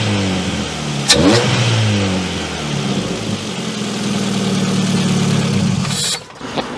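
A Ford Fiesta Mk6 engine fitted with a new air intake kit revs hard near the microphone, rising sharply around a second in, then holding a loud, steady drone before dropping off near the end.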